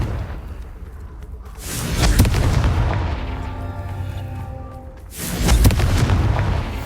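Confringo blasting curses explode in Hogwarts Legacy: two heavy, booming blasts a few seconds apart, each a loud, deep burst with a rumbling tail that fades before the next hits.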